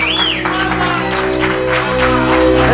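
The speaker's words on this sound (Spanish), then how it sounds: "Fuerte aplauso para ella." Studio audience on a Spanish TV show applauding and cheering for a singer, loud and close, with sustained music tones and a whistle-like swoop underneath.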